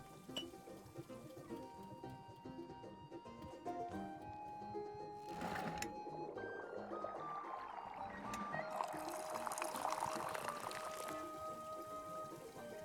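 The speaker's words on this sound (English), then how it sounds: "Ah, that's a good pour." Tea pours into a cup in the game Wanderstop, a soft trickling stream rising in the middle and growing fuller, with light clinks and gentle ambient music throughout; no one talks.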